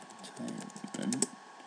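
Brisk typing on a computer keyboard gives a short run of quick, close, light key taps. Faint speech sits in the background.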